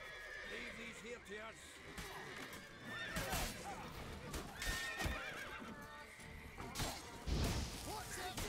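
Horses whinny and neigh repeatedly in a video game, with steady clip-clopping hooves and occasional crashing impacts, while a person talks over the game sound.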